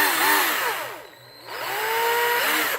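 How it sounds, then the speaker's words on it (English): A battery-powered cordless drill spins up twice in a workshop, its motor whining up in pitch, dropping away for a brief pause, then revving again before cutting off. "got a drill, a battery drill"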